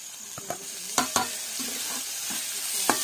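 Wild vegetable curry frying with onion and tomato in a pan, a soft steady sizzle with several sharp clacks of a spoon against the vessel, fairly quiet and without speech.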